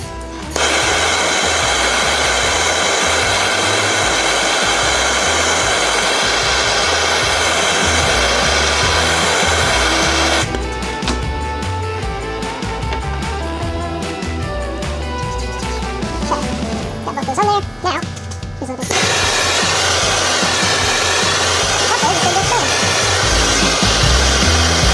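Heat gun blows a loud, steady whirring roar while heating O-rings from an MGB heater box to expand them; the hiss changes tone midway, with a few faint knocks, then returns to the fuller roar.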